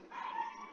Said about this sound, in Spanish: Disculpe, ese es un perro vecino mío.